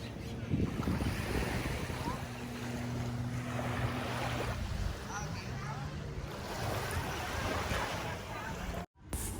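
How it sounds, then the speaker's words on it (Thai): Sea waves and wind roar steadily around a boat crossing to Koh Larn in Thailand, a constant wash of water and gusting wind noise with a low engine-like hum and brief faint voices. "ได้เจอทะเลแล้ว"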